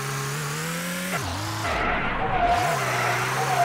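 Car engine in the Sub Rosa video game, a steady low droning hum whose pitch dips and swoops as the car revs and skids, then settles back into an even drone.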